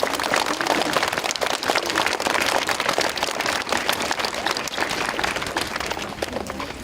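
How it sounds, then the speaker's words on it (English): A crowd claps in sustained, loud applause at a school Earth Day gathering, a dense steady patter lasting several seconds without a break. "So let's give a little round of applause, Mrs. Pfeiffer."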